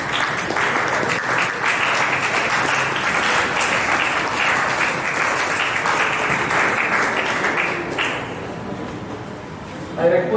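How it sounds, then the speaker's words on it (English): An audience at a problem-solving and ideation session breaks into steady applause that fills roughly eight seconds and then fades out, with faint talk as it ends. "a round of applause"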